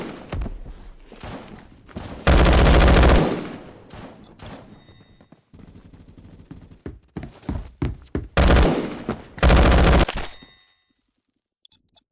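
Rapid automatic fire from a VR gun in Roblox Phantom Forces, delivered in several long, loud sustained bursts separated by quieter stretches with scattered single shots and thuds.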